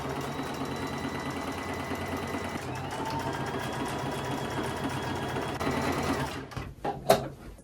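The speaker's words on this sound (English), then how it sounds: "I'm going to do this around each of the legs and sew all the way around." A sewing machine hems around the legs of thrifted shorts with a quarter-inch fold, a fast, steady mechanical hum running for several seconds, then slowing to a few short bursts and stops.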